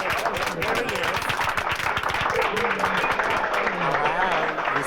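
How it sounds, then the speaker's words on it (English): Audience clapping for the first guest on a comedy stage act, a steady, dense patter of applause filling the room at a constant level, with a voice talking faintly underneath. "Now, let's give him a clap."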